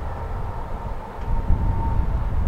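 A CSX freight train, symbol Q001, rumbles past with a constant low roar and grinding, a faint steady whine riding above the noise.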